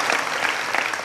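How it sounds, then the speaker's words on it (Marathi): Audience applause at a devotional kirtan gathering in Maharashtra: a dense, steady wash of many hands clapping together, fairly loud and even throughout this brief moment, with no talk over it. "त्याच्यासाठी सुद्धा सर्वांनी एकदा टाळी वाजवा महाराज"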